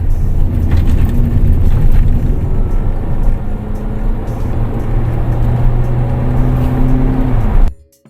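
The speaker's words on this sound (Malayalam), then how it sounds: "ഞാൻ ഒന്ന് ഡൗൺ ചെയ്ത് ചവിട്ടി വിടാൻ പോവാണ്." A 2013 Volkswagen Jetta in sport mode pulls hard after a downshift, its engine drone loud, steady and close for about seven seconds before cutting off abruptly.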